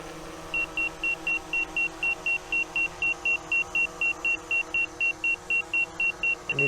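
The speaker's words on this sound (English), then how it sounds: "The sensors are beeping." A drone's obstacle sensors beep steadily during landing, a rapid, evenly spaced series of short high tones over a constant motor whir, near and moderately loud.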